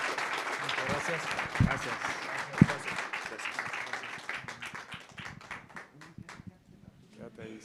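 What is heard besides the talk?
audience applause for three speakers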